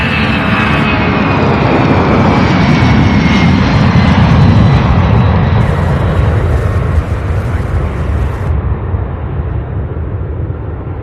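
An Airbus A300 jet roars loud and close at Louisville International Airport, its engine noise a broad sustained rush with a high whine that slowly shifts and fades as it passes.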